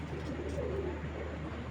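Pigeons kept in a breeding loft coo in a low, continuous rolling murmur that sits steadily close by for the whole moment.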